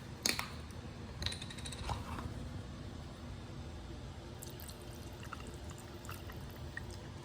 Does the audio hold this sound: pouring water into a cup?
yes